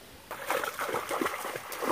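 A person wades into lake water, with light splashing and trickling that starts after a brief quiet moment and continues steadily, fairly close.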